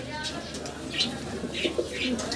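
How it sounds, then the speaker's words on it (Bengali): A male pigeon coos softly in repeated low throaty calls under steady background noise, fairly close. "নরের ডাকটা একটু দেখা দিই তো"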